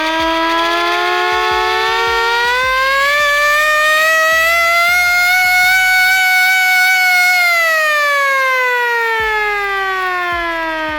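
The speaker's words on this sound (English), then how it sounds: "Hand-operated air raid siren." A hand-operated air raid siren winds up into a loud rising wail, holds a piercing howl, then slides down in pitch while the crank mechanism clatters rhythmically underneath, very close.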